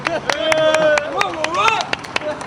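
A crowd of fans at a French rap gathering claps in scattered, uneven bursts amid whoops and shouting voices, the clapping close and lively under the chatter.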